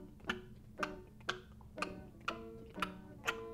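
A voice imitates billygoats eating long, tall grass with a regular series of seven short clicking chomps, evenly spaced about half a second apart, soft and close with no talking.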